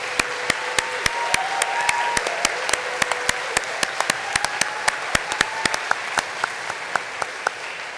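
A graduation crowd from a 2015 health science, social work and psychology ceremony claps harder, with many crisp close-up hand claps cracking over a sustained roar of applause and scattered whoops rising above it.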